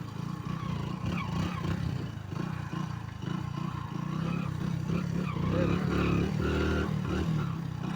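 A motorcycle engine rumbles steadily as the bike is turned around on a road, a continuous low drone with faint rattling, heard from the rider's position without speech.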